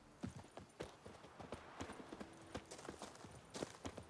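Steady clip-clop of Roach's hooves as she is ridden in The Witcher 3, a quiet, regular rhythm of distinct hoofbeats with faint ambient noise underneath.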